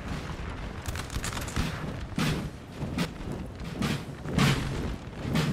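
Four-pounder cannons firing in a Napoleon: Total War battle, with several booming shots at irregular intervals over a steady battlefield rumble.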